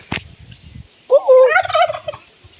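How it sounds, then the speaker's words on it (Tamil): A farmyard turkey gobbles once, a loud, close, warbling rattle, after a sharp knock and some soft clucking from nearby village fowl. "நீங்கள் யாராச்சும் வான்கோழி சத்தத்தை பார்த்தது இல்லைன்னா நீங்கள் இங்கே பாருங்கள்"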